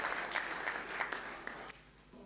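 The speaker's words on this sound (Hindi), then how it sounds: "ज़ोरदार तालियों से इस्तकबाल करें मोहतरम अब्दुर्रहमान फ़रीद नदवी साहब।" An audience at a poetry gathering in Deoband breaks into applause welcoming a speaker, a brief burst of moderate clapping that fades toward the end.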